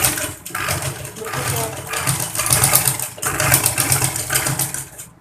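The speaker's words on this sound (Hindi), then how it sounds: "इसके ऊपर एक सिलाई लगा लेंगे बिल्कुल ध्यान के साथ।" A sewing machine runs steadily while stitching the pleats of a homemade surgical face mask, its mechanical whir rising and falling in intensity over about five seconds.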